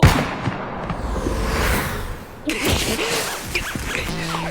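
Anime battle scene with eight attackers shooting: a burst of sharp gunfire bangs and impacts, loud and close, with a second cluster of shots midway and a faint tonal hum near the end.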